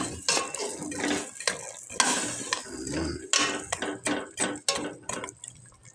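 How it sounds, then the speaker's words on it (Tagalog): Chicken dish being stirred in a pot, with a spoon scraping and clinking against the metal in repeated short strokes over a soft simmering sizzle, close by, without speech. "At saka haluin"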